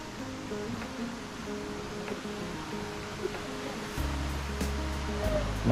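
A waterfall in the Buscalan area roars as a steady broadband rush, moderately loud and unbroken, with a low rumble joining near the end.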